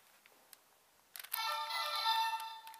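A faint tick or two, then a bright electronic chime-like tone from two toy transformation devices switched on together, a Mobirates and a Super Mega Morpher, swells up and holds steadily, loud and close, with no talking.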